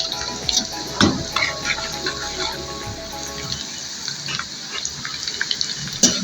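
Finely chopped garlic tipped into onions already frying in a pan for kadhi pakora gives a steady sizzle and crackle, with faint clatter and hiss through the whole stretch and no voice over it.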